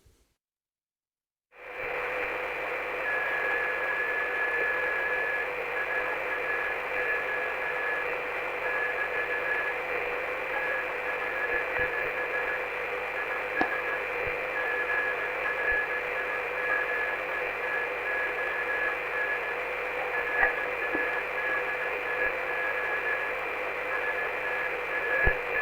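A steady high-pitched 1.575 kHz tone from a longwave Morse transmitter, noise-filtered, sits over a constant wash of radio hiss, continuing without a break after a brief silence at the start.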